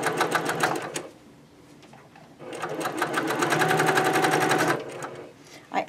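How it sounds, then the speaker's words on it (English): A sewing machine stitches quilt pieces in two fast, whirring bursts of rapid needle clatter, separated by a quieter pause, close and clear. "I'm going to just stitch that down."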